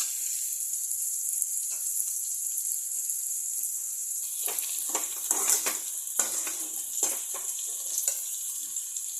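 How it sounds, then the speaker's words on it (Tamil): Onions sizzle steadily in a hot pan for upma, with occasional stirring scrapes and bursts of louder crackle partway through. "கொஞ்சம் நேரம் உப்புமாவுக்கு வெங்காயம் வதங்கிட்டுருக்கு."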